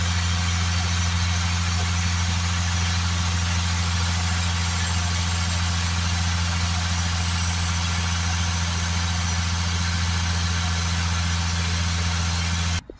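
Land Rover Discovery Sport 2.0 diesel engine held steady at 2,500 rpm while DPF cleaner is sprayed into the intake, a loud continuous drone with strong low hum, unchanging throughout and cutting off at the very end.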